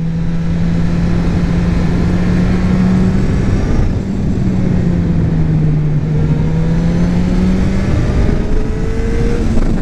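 Honda CB100 motorcycle engine heard from the rider's position, a loud continuous drone whose pitch rises and falls as the bike accelerates and shifts, with wind noise and no talking.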